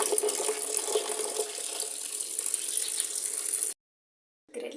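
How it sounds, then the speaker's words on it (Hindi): Tap water runs steadily into a sink while salted bitter gourds are rinsed under it, a continuous hissing splash that stops abruptly, leaving a second of silence before the flow briefly resumes. "आपने अच्छे से वॉश कर लें ताकि जो हमने नमक इसमें डाला था वो सारा अच्छे से निकल जाए।"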